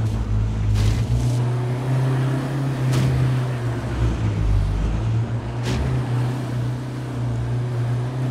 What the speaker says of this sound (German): Irgendwo habe ich ein Auto gehört, glaube ich.